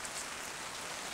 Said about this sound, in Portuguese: olha a chuva, pessoal